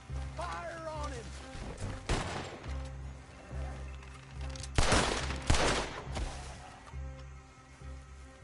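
Bursts of gunfire in a Red Dead Redemption 2 shootout, several sharp loud volleys with a dense cluster of shots near the middle, mixed with game dialogue and ambient noise.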